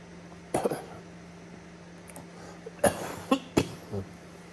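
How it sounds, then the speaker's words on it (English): A few short coughs at close range, one early and a cluster of three near the end, with quiet room noise between them. "fighting a cough"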